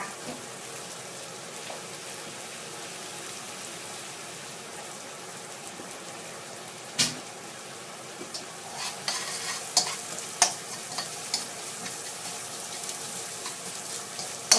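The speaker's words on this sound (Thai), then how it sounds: "ตักเครื่องไปให้หอมใจเย็นๆนะคะ" Thai spice paste is stir-fried with catfish in a quiet pan, with a soft, steady sizzle and a sharp clack near the middle, then a run of utensil taps and scrapes toward the end.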